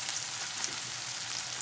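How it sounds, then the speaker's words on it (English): Onions sizzle softly in a frying pan as they soften, giving a steady, even crackle throughout with no voices. "now we're going to just soften our onions up"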